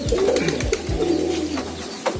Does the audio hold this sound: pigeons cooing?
yes